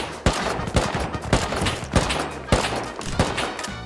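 Rapid gunfire in the survival game Rust, a loud, close burst of evenly spaced shots cracking roughly every half second over a dense rumbling background, with no talking.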